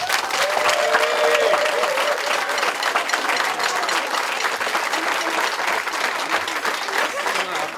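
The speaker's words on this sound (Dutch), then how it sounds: "Dan wil ik een groot applaus voor deze kinderen." A crowd bursts into sustained, dense applause for the winning children of the Kinjer OLS song festival in Schinnen, the clapping continuous and fairly close throughout.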